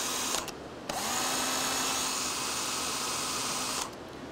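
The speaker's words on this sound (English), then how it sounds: "chuck it into your portable drill" A cordless drill cranking a camper jack starts with a short blip, then runs continuously for about three seconds under load, close by, before stopping; no voices.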